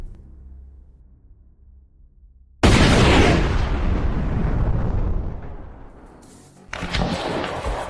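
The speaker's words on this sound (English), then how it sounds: "To understand the power of an anti-tank mine explosion, just look at what it does to a house." An anti-tank mine blast destroys a house in a combat zone: a sudden, massive boom erupts after quiet, then a long roaring rumble of collapsing debris decays and swells again near the end.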